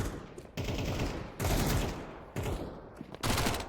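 Bursts of pistol fire from a Counter-Strike 2 match, loud and close, arriving in four distinct volleys of rapid shots with short pauses between them.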